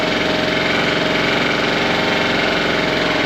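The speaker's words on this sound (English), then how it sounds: "there's an adjustment on the carburetor for your idle, but it runs alright" A Tohatsu 6hp outboard motor, running a little hot with its carburetor idle adjusted, idles in a steady, loud, close drone with an even pulsing throb.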